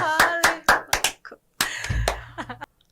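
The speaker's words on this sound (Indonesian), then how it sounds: "Tepuk tangan untuk Dewi" A handful of sharp, separate hand claps in a talk-show setting, close and uneven, coming in two short bursts with a brief gap between them rather than a full audience ovation.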